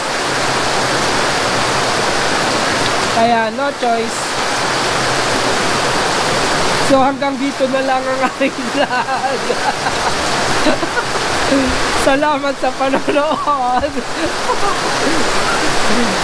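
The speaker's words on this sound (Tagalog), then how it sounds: "dumating naman na yung ulan na napakalakas" Heavy rain pours down near the seven waterfalls of Lake Sebu, South Cotabato, a loud, constant hiss under someone speaking at intervals.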